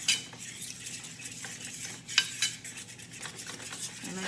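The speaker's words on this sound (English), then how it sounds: "So we're going to stir." Homemade gravy being stirred in a pan, a continuous close scraping of a utensil against the pan bottom with a soft sizzle underneath and a few sharper clinks, no talk.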